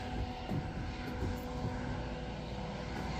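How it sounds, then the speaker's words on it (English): A small propeller crop-sprayer airplane drones steadily overhead, a continuous rough engine hum filling the air without pause. "I hear a sprayer."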